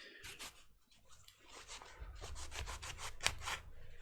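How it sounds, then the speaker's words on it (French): A cloth soaked in contact cleaner rubs back and forth over the contacts of a NES Hammerin' Harry cartridge, a faint, close, rhythmic scrubbing of quick strokes with no talking. "Et on frotte."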